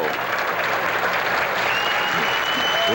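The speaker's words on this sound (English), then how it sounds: "Listen to this capacity crowd." A capacity crowd at a 1982 pro bowling tournament, the True Value Open, bursts into loud, sustained applause and cheering for a strike, with dense clapping filling the whole stretch.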